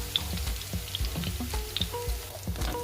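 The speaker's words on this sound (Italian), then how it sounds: "Facciamo quindi appassire il nostro scalogno in olio extravergine d'oliva." Shallot sautéing in extra virgin olive oil in a pan, a steady soft sizzle and crackle with light stirring clicks throughout, no talk.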